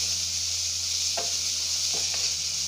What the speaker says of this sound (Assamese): এইখিনি এনেকৈ অকণমান দেৰি আকৌ ভাজি ল'ম